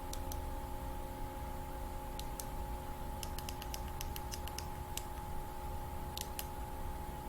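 Small, sharp button clicks on a Ledger Nano S hardware wallet, scattered singly and in quick double clicks over a steady electronic hum, close and faint.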